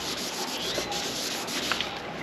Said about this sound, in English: you just take the sandpaper,